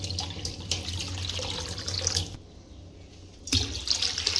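Water pours from a tap into a cooking pot at close range, a continuous splashing gush that briefly stops and then resumes.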